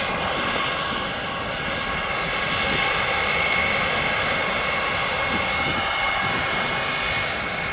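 A Turkish airliner at Birmingham Airport roars steadily, its broadband engine noise loud and constant with a faint whine on top, swelling slightly midway and holding throughout.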